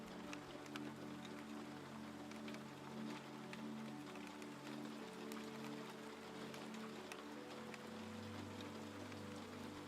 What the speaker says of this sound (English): You listen to the rain, you watch the droplets gather